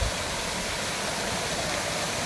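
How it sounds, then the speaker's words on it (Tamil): Artificial waterfall at Yelagiri hills, a steady broadband rush of falling water, constant and fairly close with no talk over it. "இங்கே செயற்கை அருவி ஒன்றும் இருக்குது."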